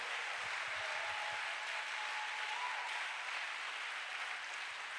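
A church congregation applauds in a steady, fairly dense round of clapping that carries on throughout at moderate volume.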